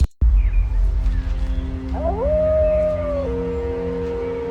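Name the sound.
wolf howl sound effect in Unity cutscene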